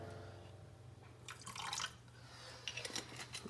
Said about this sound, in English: And then a dash of rose water.